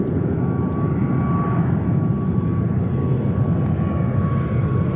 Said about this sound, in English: we have Japan Airlines taxiing to 13 right